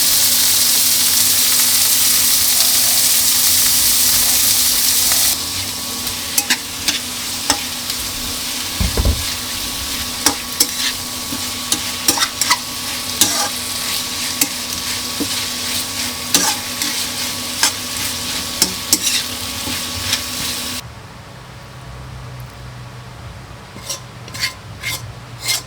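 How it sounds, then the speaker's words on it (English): Intestines and pickled greens sizzle and fry in a pan for a home-style Vietnamese dish, a steady close hiss broken by utensil scrapes and stirring, fading to quieter sizzling at the end. "added the intestines and pickled greens to the pan"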